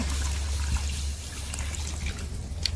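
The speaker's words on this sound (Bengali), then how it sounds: "এবার বোন জল দিয়ে দিচ্ছে পরিমাণ মতন জল দিয়ে নিতে হবে" Water poured into a pot of browned chicken for a thin curry, a steady trickling stream over a low rumbling background, with a few small splashes.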